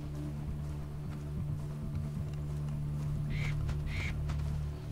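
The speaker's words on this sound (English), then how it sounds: "Freaking bird." A bird in the Far Cry 3 jungle calls twice in short honking bursts, mid-distance, over a constant low game ambience with engine-like drone.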